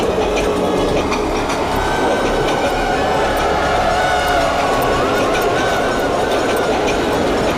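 A train passes close by in a loud, continuous rush of rolling rumble and rail clatter that fills the whole stretch, with faint metallic squeals riding on top.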